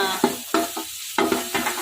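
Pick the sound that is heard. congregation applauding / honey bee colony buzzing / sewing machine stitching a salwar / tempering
tempering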